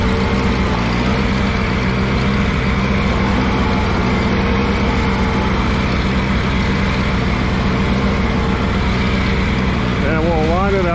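An Allis Chalmers G tractor engine runs steadily at close range, a loud continuous drone while being shifted into first gear, with someone speaking over it.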